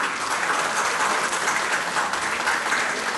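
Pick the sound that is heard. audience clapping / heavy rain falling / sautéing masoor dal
audience clapping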